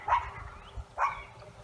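Two short barks from stressed dogs near a site where large pine trees are being felled and thinned, sounding close and fairly loud, separated by about a second with quieter background between.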